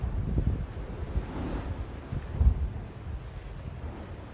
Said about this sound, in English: you can hear the waves at the bottom of the wall